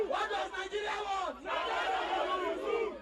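A crowd of supporters chants solidarity songs at gates, many voices rising and falling together in a loud, continuous, rhythmic chant.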